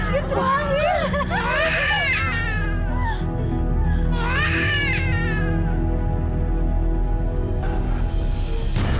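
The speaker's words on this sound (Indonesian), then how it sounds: "Saya seperti mendengar suara tangisan" A baby crying in bursts, with wailing cries rising and falling over several seconds alongside adult voices talking, in a dramatized Indonesian story setting.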